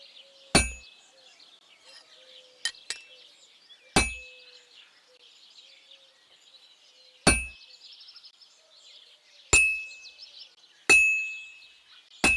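Sharp metallic hammer blows ring out on an anvil during blacksmithing in Kingdom Come: Deliverance II, six separate strikes at uneven intervals over a quiet forge background with faint bird chirps.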